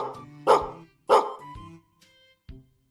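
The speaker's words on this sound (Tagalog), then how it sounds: "na-record yung tahol ng aso, Abudo." A dog barks sharply three times, close and loud, with short pauses between barks and a softer whine trailing off.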